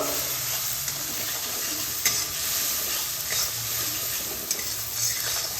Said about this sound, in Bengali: লঙ্কার গুঁড়ো হাফ চামচ কাশ্মীরি লঙ্কার গুঁড়ো হাফ চামচ আর স্বাদ মতো লবণ মশলাটাকে কষিয়ে নেব